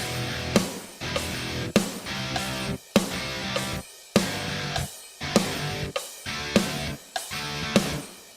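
A repeating musical note pattern with three-note gaps: rhythmic bursts of tone broken by short silences, cycling evenly about once a second.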